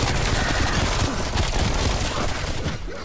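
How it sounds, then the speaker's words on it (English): Rapid gunfire from a sentry turret in a zombie shooter game rattles on loud and continuous, a dense burst of shots filling the whole stretch before easing slightly at the end. "Sentry turret going out."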